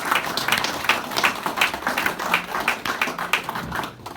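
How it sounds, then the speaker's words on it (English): Audience clapping at a retirement speech in an indoor venue, a dense patter of hands that swells, holds for several seconds and then thins out toward the end. "So I want you to give yourself a clap first."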